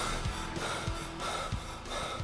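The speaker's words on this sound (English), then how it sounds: "Someone breathing desperately," Heavy, desperate breathing inside a mid-1990s song recording, with repeated gasping, snorting inhales in a steady rhythm over a dense musical backing.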